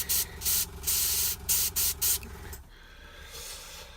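Airbrush spraying paint onto a miniature figure, a series of short sharp hissing bursts in quick succession, close and fairly loud, ending in quieter room tone.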